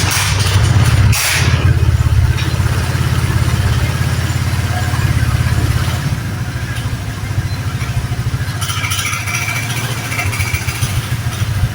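A fuel-injected motorcycle engine is kick-started and keeps running, settling into a loud, steady idle with a close, even putter that eases slightly in level partway through.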